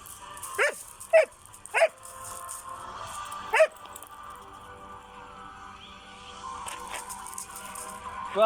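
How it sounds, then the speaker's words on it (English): Dogs bark in short sharp bursts, four quick barks in the first few seconds, then a quieter stretch before another bark at the end, heard at moderate distance. "I guess it was a false flag from these crazy dogs."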